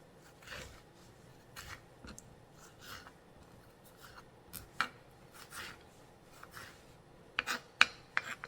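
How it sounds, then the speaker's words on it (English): A knife slicing chicken and broccoli for a stir fry on a cutting board, giving soft scattered cuts and scraping strokes, with a quick cluster of sharper chops near the end; fairly faint and no talking. "Then I'm just going to cut these up like this."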